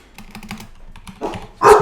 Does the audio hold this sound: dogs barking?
yes